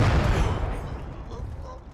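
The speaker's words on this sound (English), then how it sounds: "artillery? Where is that firing from?" Heavy artillery fire in the Finnish Conquest video game, a dense rumbling barrage of deep booms that is loudest at the start and slowly fades.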